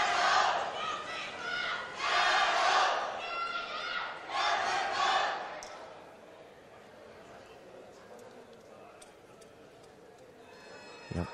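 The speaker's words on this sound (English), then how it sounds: "Liao Guifang Jiayue will be the chant that we hear from the Chinese athletes and coaches in the crowd in a few seconds' time" Rhythmic chanting of "Jiayou" from Chinese athletes and coaches in the crowd at the 2023 World Weightlifting Championships women's 71 kg snatch, rising in several loud pulses before fading into a quieter hall murmur.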